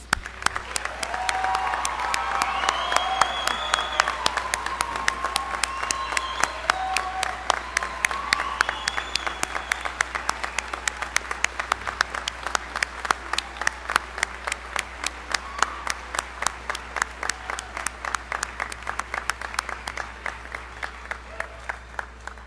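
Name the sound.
applause for graduating class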